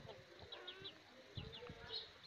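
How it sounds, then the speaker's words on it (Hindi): Aseel chickens, a home-bred rooster and hens, cluck and chirp softly in short repeated calls, with a few chick peeps mixed in, faint and close. "ये पीला मुर्गा है"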